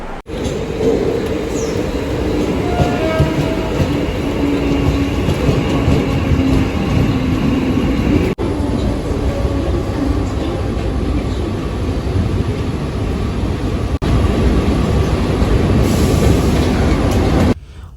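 A Mumbai local passenger train rumbles along steadily from Mumbai Central toward Borivali with a low continuous roar and faint rattling of carriages, with no voices.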